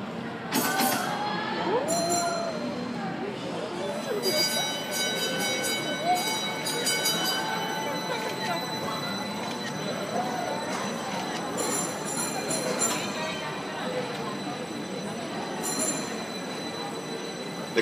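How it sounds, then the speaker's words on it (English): A custom-built, 17-year-old double-decker trolley rolls on rails at The Grove shopping plaza in Los Angeles, its steel wheels squealing in high, wavering whines over a steady rolling rumble throughout. "the trolley is in motion, please remain seated on both upper and lower decks"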